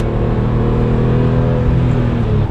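BMW E46 M3 with the SMG transmission shifting down to second gear, its engine droning loud and steady from close range with a brief dip during the shift and no speech over it.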